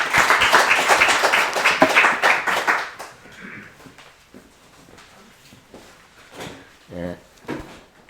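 An audience applauds after thesis presentations at a university session, a loud close burst of clapping for about three seconds that stops abruptly, followed by scattered thumps, shuffling and brief voices.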